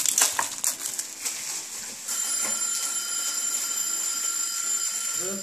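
A kitchen timer bell rings for boiled potatoes, a bright sustained metallic ringing that starts after a few clattering kitchen knocks and holds steadily to the end.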